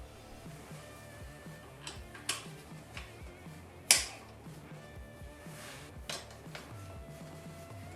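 New caliper bolts going into the Brembo brakes of a BMW R1150GS motorcycle, faint sparse metallic clicks and ticks with one sharper clink, close and quiet in a workshop.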